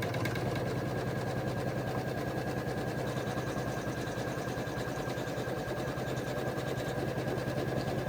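Embroidery machine stitching a zipper placket in the hoop, a steady fast mechanical chatter running evenly throughout at moderate volume.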